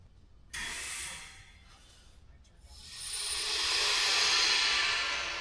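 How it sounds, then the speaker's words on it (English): An air compressor in a garage workshop switches on with a sudden burst of broadband hiss, dips briefly, then builds into a loud, steady rushing roar that holds to the end, with no voices. "Okay, Google, turn on air compressor."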